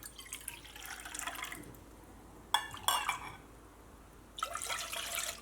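Water pours into a 250 ml measuring cup in short bursts, each a bright splashing gush with a clink of the cup between pours, close up and without speech.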